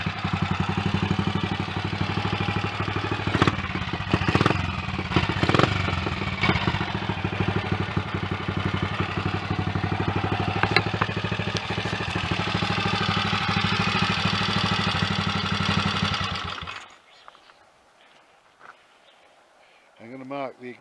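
A BSA B25 Starfire single-cylinder motorcycle with a fitted higher-compression piston runs close and steady for about seventeen seconds, then cuts off, leaving near silence with a faint sound at the very end.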